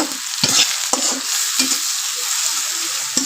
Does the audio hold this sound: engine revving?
no